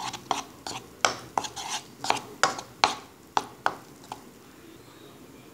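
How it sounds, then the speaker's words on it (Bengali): Yeast and milk powder for pizza dough being stirred briskly in a bowl: a regular run of sharp spoon taps and scrapes, about two per second, close up and fairly loud. "ভালো করে নেড়ে নিব।"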